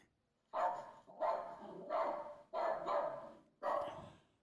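A dog barks five times in a row, each bark drawn out and fairly loud, with short pauses between them and no voices.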